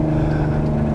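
Hyundai Genesis 3.8 R-Spec V6 engine revving hard near 4,000 rpm, a steady loud drone with strong low harmonics filling the whole second, close up.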